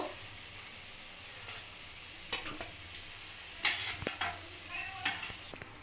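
Bottle gourd koftas fry in a pan of oil, giving a soft, low sizzle with scattered clicks and scrapes as they are turned and lifted out. Quiet and close, with no voices.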